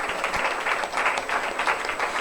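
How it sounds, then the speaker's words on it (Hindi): A congregation at a Sunday church service in Pakistan claps together in a steady rhythmic beat, a dense, even wash of hand claps close by. "आपकी तालियां जो हैं वो स्लो होती जा रही हैं।"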